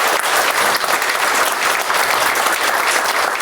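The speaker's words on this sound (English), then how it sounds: "Please give Jody Bowersox a round of applause" Loud, dense applause from the crowd at an awards celebration, steady and unbroken for a few seconds.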